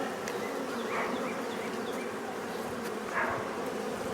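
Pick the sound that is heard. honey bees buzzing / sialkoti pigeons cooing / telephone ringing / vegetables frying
honey bees buzzing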